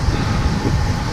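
Car tires roar on the road during a drive in the Alpilles, a steady, loud, broadband rumble lasting about a second.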